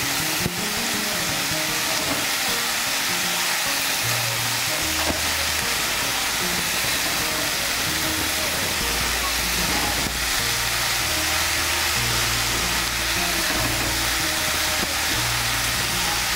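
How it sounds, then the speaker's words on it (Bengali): Chopped taro being mixed into oil and frying in a pan, a steady, loud, broadband sizzle that runs continuously with a low hum underneath and no talk. "কচুটাকে তেলের সঙ্গে ভালো করে মিশিয়ে নেব।"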